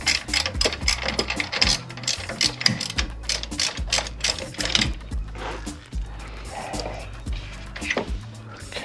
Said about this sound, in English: Let's see if I can use the ratchet.